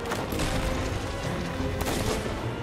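Rapid bursts of gunfire crackle continuously, dense and loud, with occasional sharper blasts punctuating the steady barrage, in the pirate video game Sea of Thieves.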